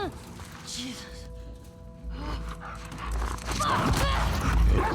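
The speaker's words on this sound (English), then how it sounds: "Bad dog." Dog in The Last of Us Part 2 gameplay, panting and yipping amid game sounds, with someone talking over it and rising rumbling effects toward the end.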